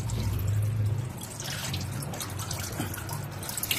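Old black engine oil draining from a 2016 Hyundai Elantra during an oil change, a soft continuous trickle and dribble of liquid under a low hum, fairly faint and with no talk.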